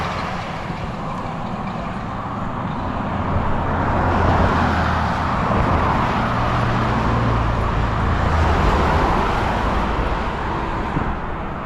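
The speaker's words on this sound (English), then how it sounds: "plenty of traffic heading back towards Melbourne" Road traffic near a bridge in the Cann River area, a steady roar of passing cars and trucks with a low engine rumble that swells midway and eases off, fairly close and continuous, no talk.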